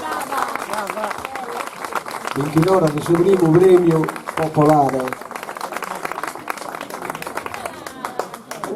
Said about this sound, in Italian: Un applauso a Gesuina Scano